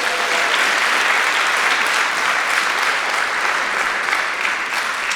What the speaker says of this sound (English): Can everybody give a round of applause for Taeyong